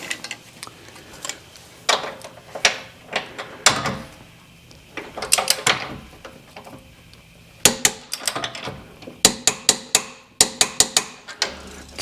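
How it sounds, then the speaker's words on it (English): A torque wrench tightening a Jeep JLUR track bar bolt to 60 foot-pounds, with repeated sharp ratcheting clicks and metallic knocks in irregular bursts, close and fairly loud, with no talk. "So we will grab our torque wrench and run her up to 60."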